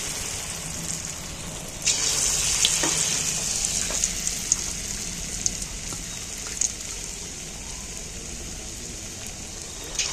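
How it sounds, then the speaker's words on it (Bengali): Battered pieces, likely jackfruit for a home-style curry, fry in a pan of hot oil, giving a steady, close, bright sizzle with occasional sharper crackles and pops throughout, no voices. "আবারও আমি বাকি বাটারটার মধ্যে দিয়ে তেলের মধ্যে তুলে দিচ্ছি।"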